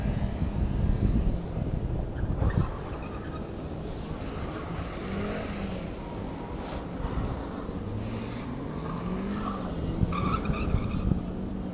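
A slalom car spinning out on a practice course, tires squealing and skidding in long wavering screeches over a droning engine and wind noise, moderately distant.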